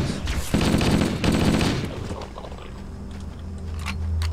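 Rapid automatic gunfire from the video game Halo: Combat Evolved, with two loud, dense volleys in the first two seconds and then quieter game ambience and scattered lighter shots.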